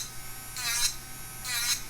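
An electric nail file drill fitted with an extra coarse bit whirs in two short bursts against an acrylic nail, a close high-pitched buzz with a quiet pause between passes.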